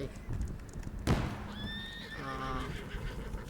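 Cavalry horses in the Roblox game Men of War give a loud whinny after a sharp bang, followed by a second descending neigh, with hoof clip-clops and voices chattering underneath.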